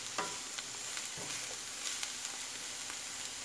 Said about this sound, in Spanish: También tenemos acá las papas, ya también se están friendo